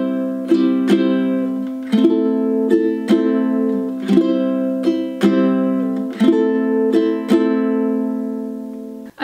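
Ukulele strummed in a slow, gentle pattern, with clear down and up strums ringing out in a steady triple-feel rhythm, played alone and close.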